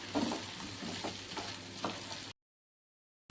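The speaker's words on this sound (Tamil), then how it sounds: "அதை இதில் சேர்த்துக்கலாம் இப்போ நல்லா வதக்கிக்கலாம்" Split turkey berries sauté in hot oil, a close continuous sizzle with light stirring scrapes before the sound cuts out abruptly.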